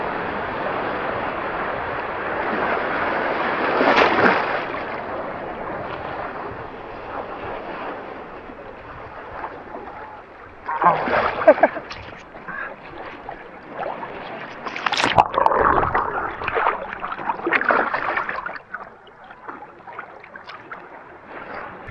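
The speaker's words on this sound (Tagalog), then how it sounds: "Ayun, malaki yung alon guys, ayun, no?" Large ocean waves roll in at a beach in Lian, Batangas, each surge building into a loud, rushing wash and fading back, several swells breaking over about twenty seconds with a constant windy roar between them.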